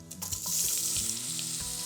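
Loud, close sizzling of sausage browning in a hot pan, a bright steady crackle with a few light bumps of the pan.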